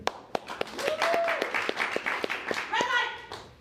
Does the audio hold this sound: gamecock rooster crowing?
no